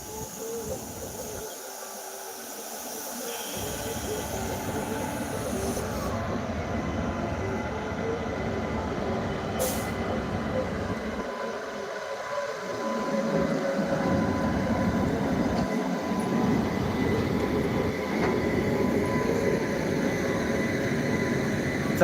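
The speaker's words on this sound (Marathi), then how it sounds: "पुणे हैदराबाद शताब्दी सुपरफास्ट एक्सप्रेसचं आगमन झालेलं आहे" The Pune–Hyderabad Shatabdi superfast express moves through a station without stopping, a sustained rumbling roar of wheels and carriages that builds and stays loud and close throughout.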